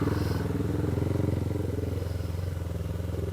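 A motorcycle climbs uphill on Tablas Island, Romblon, its engine a loud, close, steady throbbing drone with rhythmic pulsing that holds throughout.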